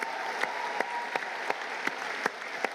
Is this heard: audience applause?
yes